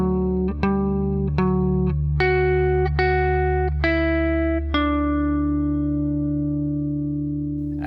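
Electric guitar plays the last bar of a riff with effects: a few plucked notes, a chord change near the middle, and a long ringing final note that fades. The guitar is heard alone, with no talking.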